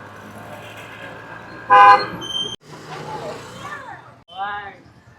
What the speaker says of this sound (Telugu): ఆటో ఎక్కి వెళ్తున్నాము